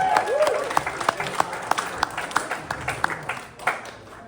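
A small comedy-club audience at a roast battle claps for a contestant, a lively burst of scattered, uneven hand claps with a host's voice talking over it, fading slightly toward the end.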